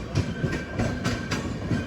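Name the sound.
passing train crossing, Bengaluru to Hatia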